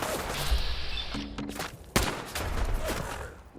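Enemy weapons fire in the video game Fallout 4, at a station where a foe wields a missile launcher: a rapid volley of loud shots and thuds, with one sharp heavy blast near the middle.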